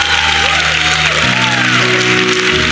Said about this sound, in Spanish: si vas a aplaudir, tienes que hacerlo con más ganas